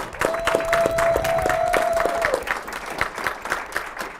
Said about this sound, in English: give a big round of applause to all of our panelists